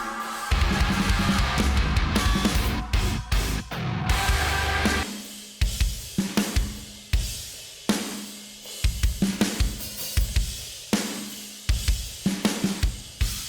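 Heavy, punchy metal drums pound in a driving pattern, first dense and full, then sparser hits with sharp, snappy attacks and compressed sustain, alternating with and without parallel and bus compression.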